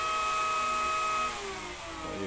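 Steady high-pitched electric whine of an E-flite Draco 2.0m RC airplane motor running on the ground, loud and close, easing slightly in pitch partway through, with no talk over it.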